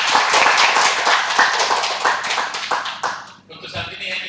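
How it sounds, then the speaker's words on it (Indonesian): An audience at a regional innovation competition in Wajo claps for a presenter, brisk dense applause that thins out toward the end, with voices talking over it. "ya kita berikan aplaus kepada Pak Ridwan"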